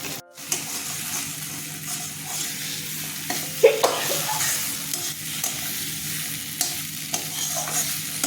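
Pumpkin leaf bharta being stirred in a frying pan, a steady soft sizzle broken by repeated scraping and clinking of the spoon against the pan.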